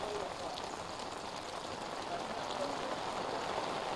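Heavy rain pours in Hyderabad around Lakdikapul, a steady, dense hiss of water on surfaces that holds at an even level without a break.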